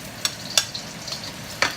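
Garlic fries in oil in a wok, a faint low sizzle broken by a few sharp scraping stirs and clinks, close and without any voices.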